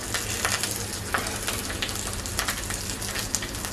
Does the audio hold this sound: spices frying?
yes